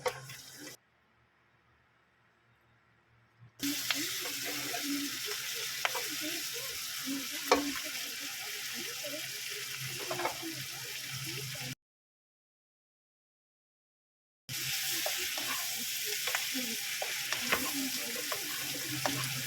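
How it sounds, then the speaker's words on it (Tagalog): Shrimp sizzling in melted butter in a pan: a steady, close crackling fry with light stirring clatter. The sound cuts out completely twice, and no one speaks. "pag tunaw na yung butter, lagyan mo na yung shrimp"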